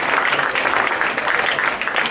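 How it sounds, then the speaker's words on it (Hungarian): Audience applause at a school year-end ceremony held outdoors in an art school courtyard: a dense, steady wash of many hands clapping continuously at a moderate level. "Egy tapsot megérdemeljük."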